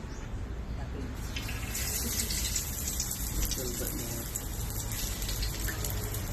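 Garlic dropped into a hot pan for chop suey sizzles and hisses steadily, a loud, continuous frying wash with a voice talking underneath.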